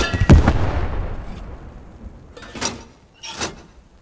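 Several sharp gunshot bursts in the World War II shooter Post Scriptum: a heavy crack near the start, then two separate broadband volleys a second apart later on, moderately loud, with no talking.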